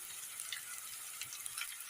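Dried red chillies sizzle in hot oil for a Kerala recipe, a faint, steady crackling hiss with small pops and no talk.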